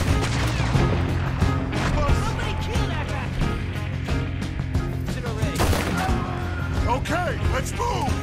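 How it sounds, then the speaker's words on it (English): Gunfire in the video game Red Dead Redemption 2: many rapid, overlapping shots and crashes over a steady loud bed of music, with voices shouting now and then. "Keep shooting till nothing moves."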